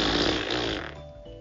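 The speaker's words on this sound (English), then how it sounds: "Please ignore my gassy farts." A fart sound effect from a comedy commercial, one long, loud, rasping blast that buzzes and sputters for about a second before trailing off, with no talk.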